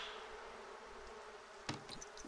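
Bees from beehives in The Sims 4 life-simulation game drone in a continuous, even buzz that fills the scene, with a few brief clicky game sounds near the end.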